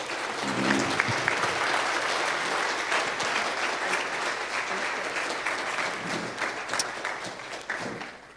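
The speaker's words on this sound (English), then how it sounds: "let's give one more round of applause to our amazing panel" Warm, steady applause and a few cheers from a crowd at a Sunrise Movement event in Asheville, sustained for several seconds in honor of a panel before gradually thinning out.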